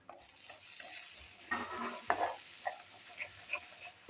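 Quiet frying in a pan: a soft sizzle under intermittent scrapes and stirs of a spatula, with no talking.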